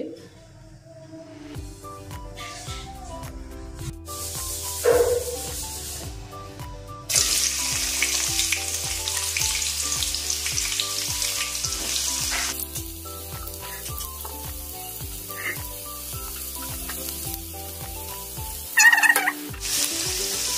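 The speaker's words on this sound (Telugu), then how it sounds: "ఈ ఆనియన్స్ కొంచెం ఫ్రై చేసుకుందామండి." Onions frying in oil in a pan for curry, a steady sizzle with occasional stirring scrapes, heard beneath continuous background music that runs throughout.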